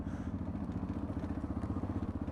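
A motorcycle being ridden on the TET trail past an old village, its engine chugging steadily with a continuous metallic chain rattle running through it, close and fairly loud.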